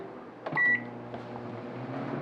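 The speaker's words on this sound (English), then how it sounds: "So here we go. We're moving over the microwave." A microwave oven drying cilantro hums steadily, with a sharp beep near the start, heard close and alone.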